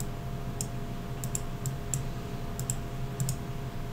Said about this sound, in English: You're probably hearing all the clicking I'm doing